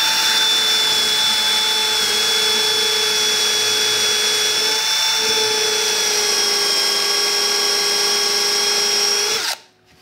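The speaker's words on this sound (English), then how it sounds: "we're just going to drill it into a piece of half inch pine board here" A power drill with a countersink bit whines steadily at a constant high pitch for nearly ten seconds, boring into a half-inch pine board, loud and close, then cuts off abruptly.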